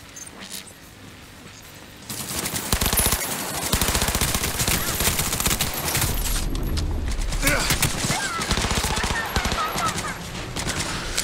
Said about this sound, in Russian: Пулемет реально крутой.